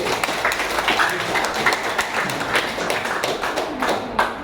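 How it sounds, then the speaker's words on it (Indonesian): Applause for a participant at a school counselor teacher training session, a room of people clapping in a quick irregular patter at moderate level, fairly even throughout with a few sharper claps. "Oke, tepuk tangan untuk Rifki."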